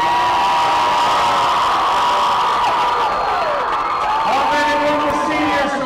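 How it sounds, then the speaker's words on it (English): A crowd cheers and yells loudly at a high school powderpuff flag football game between seniors and juniors, a sustained roar of voices through the whole stretch, with an announcer talking over it. "The crowd going nuts for the seniors."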